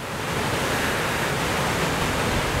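Strong wind blows outdoors and buffets the microphone, making a loud, continuous broadband roar with no voices over it.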